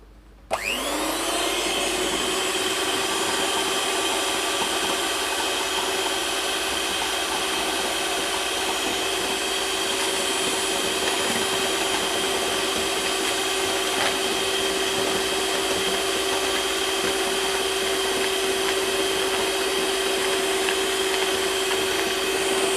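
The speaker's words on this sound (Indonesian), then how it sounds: "Lalu kita mix lagi." An electric mixer whirs steadily and loudly for the whole stretch, blending a chocolate ice drink with a steady motor tone and no talk over it.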